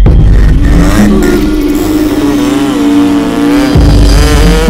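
A jeep engine revving hard as the vehicle pulls away, a loud, close, throaty roar that rises and falls in pitch with the shifting throttle and runs the whole time.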